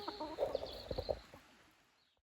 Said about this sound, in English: getting mobbed by chickens